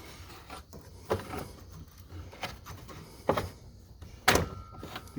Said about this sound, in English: take the belt off, serpentine belt off, so that we can take off the alternator